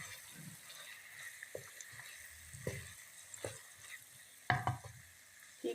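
Vegetables (potato, peas and carrot) being stirred as they fry in a pan, with a steady soft sizzle and a few sharp scraping stirs near the end, close and alone without talk.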